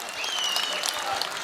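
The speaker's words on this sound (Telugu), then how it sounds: "చప్పట్లు బాగా కొట్టాల." An audience at an anniversary event gives a short burst of steady, close clapping that fills the whole moment without any talking over it.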